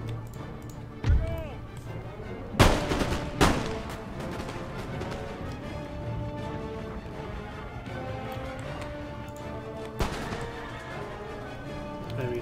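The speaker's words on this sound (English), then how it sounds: "Camels can be dealt with carbine fire." Carbine gunfire during a battle in the strategy video game Empire: Total War, heard as a few sharp cracks and bursts over a steady din of battle noise, with someone talking over it.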